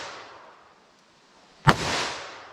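A single sharp gunshot from a .327 Federal Magnum handgun cracks out mid-clip, loud and close, followed by a brief rolling echo over quiet outdoor background.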